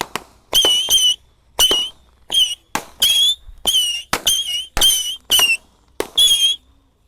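A string of Indonesian mercon firecrackers set off at night, sharp squealing whistles with bright crackling pops firing one after another in irregular bursts, fairly close, with no one speaking.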